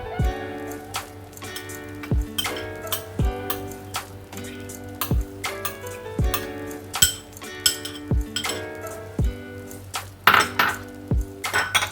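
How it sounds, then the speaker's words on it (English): A knife chops half a capsicum on a board in a home kitchen. Sharp, regular strikes about once a second ring with a slight clink, close and clear, with no talking. "Let's chop some vegetables. Here I'm taking half a capsicum"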